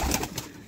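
Pigeons on a rooftop loft giving a brief, soft coo, close by and over in under a second.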